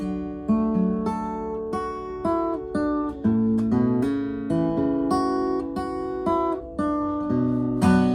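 Acoustic guitar playing a cover: steady strummed chords with ringing sustain and shifting bass notes, close and clear, purely instrumental with no singing.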